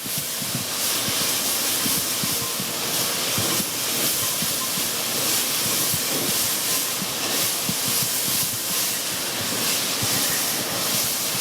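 Hot beef stew pot hissing and steaming steadily after celery and carrots are added, a continuous broadband sizzle with faint clinks and bubbling underneath, no voices.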